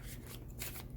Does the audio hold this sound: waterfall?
no